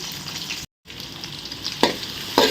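Onion, green chili and curry leaves fry in oil in a pan, giving a soft, steady sizzle with a brief gap and a couple of sharper spatters near the end.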